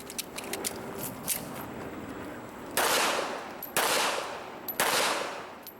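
Gunshots at an IDPA pistol match, with three sharp, loud broadband bursts after a stretch of lower, busier crackling and clatter.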